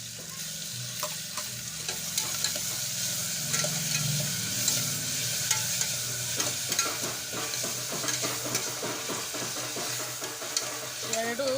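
Onions and tomatoes fry in a pan while a utensil stirs and scrapes them, a steady sizzle broken by rhythmic clicks of the stirring, loud and close.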